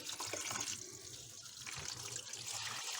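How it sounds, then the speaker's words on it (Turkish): Lukewarm water pours steadily into the drain opening inside a refrigerator, a continuous close splashing, trickling stream with no talk. "ılık suyla o gider kısmına suyu boşaltıyoruz"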